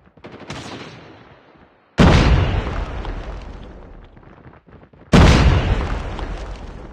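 Grenade blasts in the Call of Duty video game: two sharp, loud explosions with booming decaying tails, the first about a third of the way in, the second near the end, after an earlier fainter burst.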